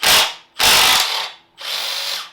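A ratchet loosens motorcycle swingarm linkage bolts in three loud, close bursts of rapid clicking, with short pauses between them and no talking.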